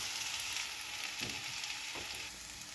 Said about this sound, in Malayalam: ഇനി നമുക്ക് അരപ്പ് അതിലേക്കിടാം. അതിൻ്റെ ഒരു പച്ചമണം വരെ ഒന്ന് ഇളക്കിയെടുക്കാം.